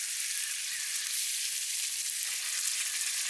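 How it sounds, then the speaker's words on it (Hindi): Gravy for mushroom tikka sizzles and fries in a pan over a campfire at a forest lake in the rain, a steady, close, loud hiss with no one talking. "ग्रेवी मस्त हो रहा है भाई। बढ़िया से भुना ना अभी"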